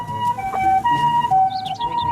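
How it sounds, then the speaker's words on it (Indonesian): A toy ambulance siren plays from a small muddy toy ambulance, sounding a close, steady electronic two-tone wail that alternates evenly between high and low pitches, with no voices over it. "Ternyata mobil ambulan."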